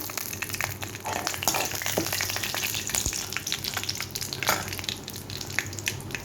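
Chana dal, urad dal and dried red chillies frying in a small amount of oil, a loud continuous crackling sizzle with scattered pops and stirring scrapes, close up, with no talk.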